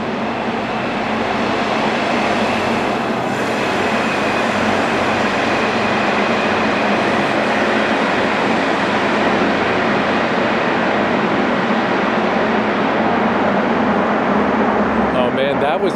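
Two small motorcycles pass through a road tunnel in Tokyo, their engines a loud, continuous echoing roar that stays strong throughout and swells slightly near the end.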